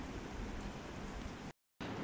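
Rain falling outdoors at a beach homestay, a dense steady hiss of drops on surfaces, close and even, cut by a brief silent gap near the end.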